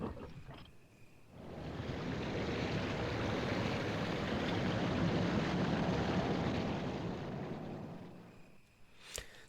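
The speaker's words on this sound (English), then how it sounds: "The sound of the waterfall seems to have stopped." A video game waterfall gives a broad, steady rushing roar that swells in after a quiet start, holds for several seconds, then fades away, ending with a brief click.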